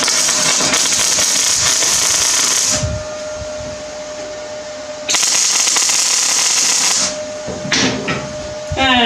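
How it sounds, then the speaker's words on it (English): A MIG welder tacks metal pieces together for a forged hammer, giving loud steady crackling hiss bursts of about two to three seconds separated by quieter gaps, with a thin steady whine underneath. "let's get the welder out, the good old MIG, and let's just tack it"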